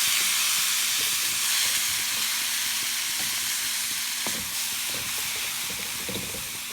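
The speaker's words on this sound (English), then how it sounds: "get those stirred in" Bean sprouts being stirred for spring rolls in a hot frying pan give a steady, close hissing sizzle with scattered scraping clicks of the utensil throughout.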